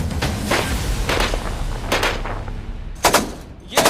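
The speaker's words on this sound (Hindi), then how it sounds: "ये धमाका और ये गोलियों की तड़तड़ाहट देश के दुश्मनों को थर्राने के लिए काफी है।" Machine gun fire from an Indian Coast Guard vessel with guns mounted fore and aft: sharp, loud bursts of shots that repeat at irregular intervals over a rough, constant background roar, with two distinct blasts near the end.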